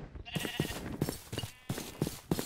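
Sheep bleat repeatedly in RLCraft, a Minecraft modpack game, with short wavering calls in quick succession, close and fairly loud, with no talking.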